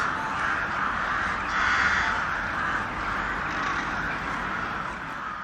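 Many crows caw continuously at a large winter city roost, a dense, loud chorus of overlapping calls with no voices.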